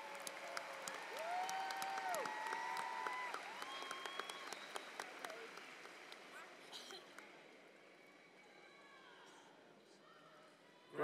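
Applause at a 2016 high school graduation ceremony rises from a large crowd as a long, faint, steady patter of clapping that slowly thins toward the end, with scattered voices and whistles mixed in.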